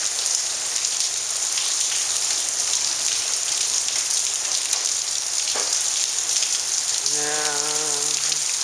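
Heavy rain pours steadily in a Dallas, Texas storm, a dense constant hiss close by, with a brief spoken word and a short tonal electronic chirp near the end.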